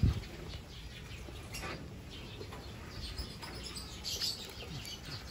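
Lovebirds, adults and a few chicks, in a breeding box give faint scattered chirps and brief tweets over a low background hiss.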